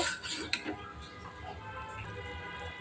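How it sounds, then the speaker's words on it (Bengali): A thick egg korma spice paste with a little added water and slit green chillies is stirred and fried in a pan, giving scraping, clinking utensil sounds that are busiest at the start, over a steady low sizzle. "সামান্য পরিমাণ জল দিয়ে দিব, দিয়ে মশলাটা ভালোভাবে কষিয়ে নেব।"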